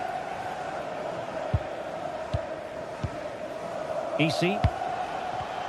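Stadium crowd in a football video game, a steady roaring murmur throughout with a few sharp thuds over it and a brief shout near the end, a voice briefly speaking.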